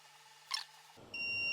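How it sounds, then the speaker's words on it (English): A heat press machine used for making custom clothing gives a short high beep when ready, a single brief chirp over quiet hum, followed by a louder steady tone and rising background noise. "The machine will beep itself when it's ready."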